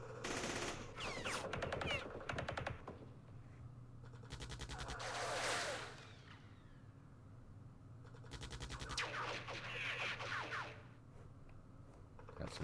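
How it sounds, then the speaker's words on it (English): Machine gun fire from the Vietnam War game Campaign Series Vietnam, heard as several rattling bursts of rapid shots separated by short pauses, with sharp ricochet-like sweeps between them, all fairly quiet under a steady low hum. "That's a machine gun."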